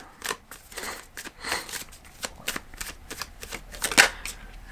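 Cards from an animal oracle deck being handled and drawn: a run of quick crisp flicks and papery snaps, irregular and close, with one sharper snap near the end and no talking.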